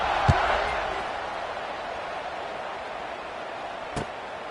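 Steady crowd buzz filling a video game American football stadium after a touchdown, a continuous broadband roar with two sharp thuds, one near the start and one near the end.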